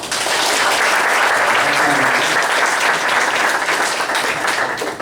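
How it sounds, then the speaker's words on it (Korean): Sustained audience applause fills a lecture hall at the close of a special talk on design and faith, dense steady clapping from many hands holding at an even level throughout. "큰 박수로."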